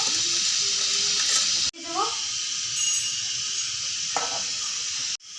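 Hot oil sizzling in a pan ahead of adding puti fish for a village-style fish curry, a steady bright hiss running throughout, briefly cut off twice, with a voice talking over it.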